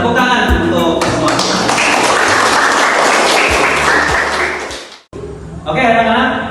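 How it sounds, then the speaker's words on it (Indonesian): Applause from a classroom of students fills most of the span, dense and loud with scattered taps and thuds, cutting off abruptly before a teacher's voice resumes. "Tepuk tangan untuk semua."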